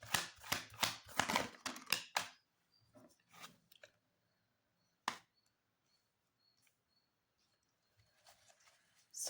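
Tarot cards shuffled by hand, a dense burst of quick crisp riffling and slapping for about two seconds, then a few soft isolated taps and card flicks separated by near silence, with one more brief rustle near the end.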